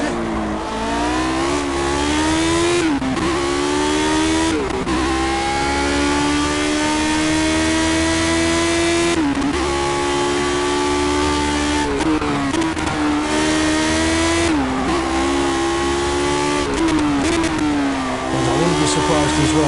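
A Lotus 72D racing car howls along the Nordschleife at high revs, loud and continuous, with repeated rising pitch sweeps broken by quick gear-shift drops, and someone talks over the engine.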